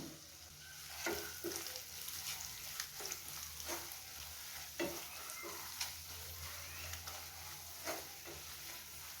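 Curry leaves and turmeric sizzle in hot oil in a pan for a fish and okra curry, with a steady frying hiss and occasional stirring scrapes, close and moderately quiet, no voices.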